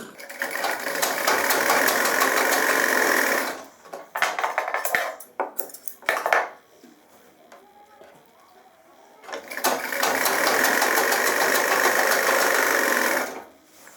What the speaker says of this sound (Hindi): अब मैं ये आपकी गिदरी की सिलाई लगा रहा हूँ